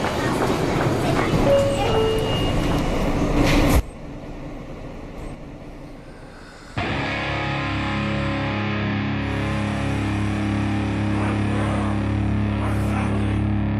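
A subway train ride staged as a radio-play effect: steady rolling rail rumble and rattle, abruptly cut to a quieter hollow interior noise, then a return to a sustained droning ride with tonal hum.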